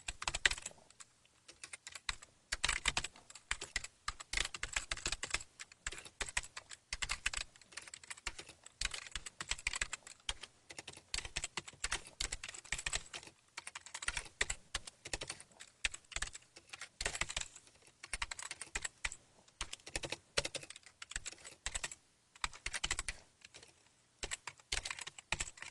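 Continuous rapid typing of an SQL statement on a computer keyboard, dense clattering keystrokes with brief pauses, close and clear throughout with no voices.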